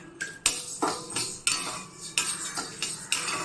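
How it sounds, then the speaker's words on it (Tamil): Barley dry roasting in a pan, heard as a series of sharp scraping and clinking strokes from a spoon or spatula against the metal, repeated roughly every half second with brief rattling grains between, close and fairly loud, no speech. "அடுத்து பார்லி போடலாம். ஒன்றா போட்டு வறுத்துக்கணும்."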